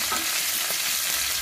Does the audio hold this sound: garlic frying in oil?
yes